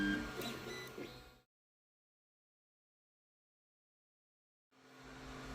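A Creality Ender-3 3D printer auto-homes, giving a short burst of motor whirring and mechanical movement, then a long silent gap before the motors start again.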